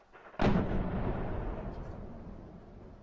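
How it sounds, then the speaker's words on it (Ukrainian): A single heavy blast goes off at an occupied ammunition depot in Horlivka, a sudden boom that rolls and fades over a few seconds, heard from a distance with no voices. "Тут теж вибухає і детонує на складі боєприпасів окупанта."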